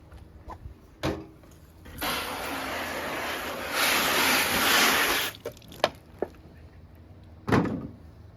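Lightweight seed starting mix dumped out of a prefilled plastic seed tray, a sustained soft rushing pour lasting a few seconds, bracketed by a few hard knocks and taps of the tray, close and loud.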